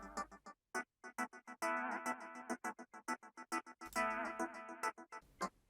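Quick, punchy synth claps from a DX7 soundbank repeat in a busy rhythmic pattern without reverb, layered with sustained organ chords that swell in and out between the hits.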